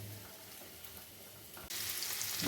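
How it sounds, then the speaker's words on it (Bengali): Steady sizzling of paneer frying in a pan, with a sudden louder hiss partway through as something hits the hot oil. "পনিরটা একটু ভেজে নিচ্ছি একটুখানি নুন দিয়ে দিলাম"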